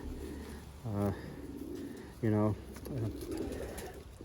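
Racing pigeons in their home loft give a few soft, throaty coos spaced a second or so apart, close by, while someone talks over a steady background hum.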